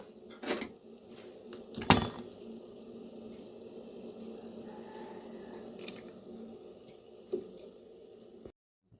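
Potatoes are added to a cooking pot, with a few sharp clatters and knocks of pieces and utensils against the pot over a low background, fairly close and without talk.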